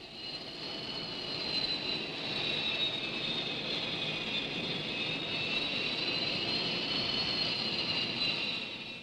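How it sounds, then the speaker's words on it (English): A Supermarine Scimitar jet on an aircraft carrier deck runs with a steady, loud whining roar and a high sustained tone, holding constant with no talking. "Now let's see a complete launch in practice. First aircraft, a scimitar."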